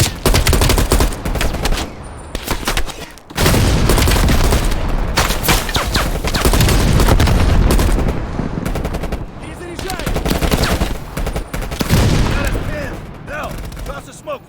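Sustained machine-gun bursts and heavy gunfire in a Call of Duty Black Ops Cold War firefight, loud and close, with a booming RPG blast cutting through the rapid rattling barrage.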